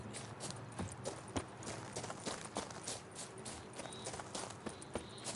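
Hooves of the horse Roach clip-clopping at a run in The Witcher 3 video game, a steady rapid patter over dense, fairly quiet game ambience.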